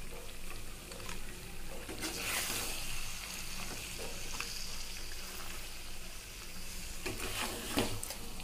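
A paste of ginger, garlic, cumin and coriander fries in a hot pan for a mutton curry, sizzling steadily, with occasional scraping stirs rising above the hiss.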